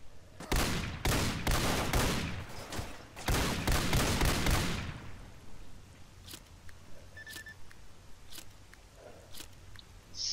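Ghost rifle in the Call of Chernobyl game, firing a rapid burst of loud sharp gunshots for about five seconds, then a few scattered distant single shots over quiet ambience.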